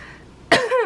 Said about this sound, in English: cough to clean up your throat